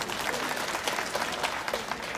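An audience at a speech in Gabon breaks into brief, steady applause, a dense patter of many hands clapping at moderate volume.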